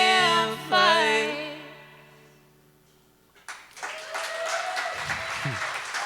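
A live audience applauds a band, the final ringing notes of the song fading out before a sudden rise of steady clapping that carries on to the end, with a few whoops.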